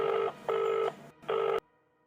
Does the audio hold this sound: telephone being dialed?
yes